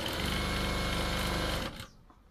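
A sewing machine runs fast and steady, stitching a folded blouse edge with a dense rapid clatter, then stops abruptly near the end.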